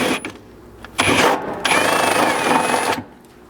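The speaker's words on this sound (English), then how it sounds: "Now with our 17/32 drill, we can finish out this hole" A power drill with a 17/32 bit whines in short bursts, stopping and starting, with a longer steady run of grinding bite through thin sheet metal of a Jeep Wrangler JKU floor, close and moderately loud.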